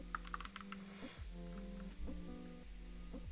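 Keys on a computer keyboard tapped in short bursts, close and fairly quiet, with a denser flurry of clicks at the start over a constant low hum and no voices.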